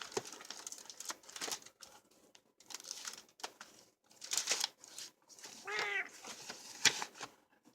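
A house cat gives a single short meow partway through, mixed with soft rustling and crinkling sounds nearby at a quiet level.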